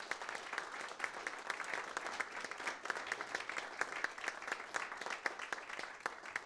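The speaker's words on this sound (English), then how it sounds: "please give them an applause for being here" An audience at a meetup applauds in a sustained, dense patter of many hands clapping, steady and moderately distant throughout with no voices standing out.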